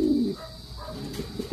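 A visiting racing pigeon coos just after drinking water, a low soft burst up close at the start followed by quieter murmuring coos, with no one speaking.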